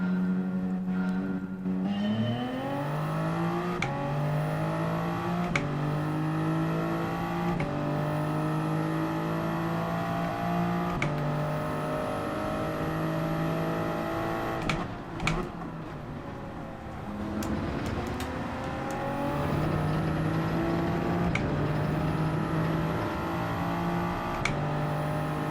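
Race cars in Gran Turismo 7, a Group 3 race at Watkins Glen long course, engines revving up through gears with repeated rising pitch sweeps and shifts, steady and fairly loud throughout.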